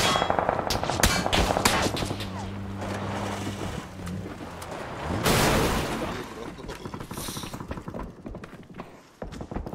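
Bursts of gunfire from the PUBG battle-royale game on PC, sharp impulsive cracks scattered through a dense, busy mix of in-game noise, with a louder surge midway.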